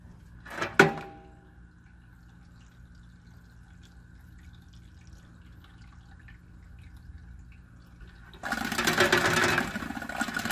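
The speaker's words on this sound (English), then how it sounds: "We want to go ahead and depressurize the system down here now." Water drains from a depressurized water treatment system after its effluent John Guest valve is opened through a quarter-inch tube. A sharp knock comes first, then a faint hiss, then a louder steady gush of flow near the end.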